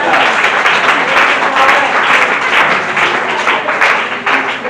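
A church congregation applauds to acclaim Jesus during a French-language sermon, sustained loud clapping from many hands filling the room throughout, with faint voices mixed in.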